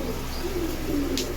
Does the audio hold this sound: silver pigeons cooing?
yes